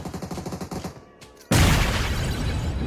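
A grenade blast in a first-person shooter game erupts suddenly and loudly after a stretch of rhythmic gunfire, its dense roar filling out and sustaining to the end.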